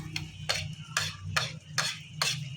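A spoon or spatula stirring a corned beef mixture in a pan, six evenly spaced scraping strokes over a low steady hum, close and clear with no talking.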